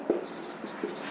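A pen scratches out notes during a Class 9 science lesson on plant tissue, a few short strokes within a second, close and clear with no talk.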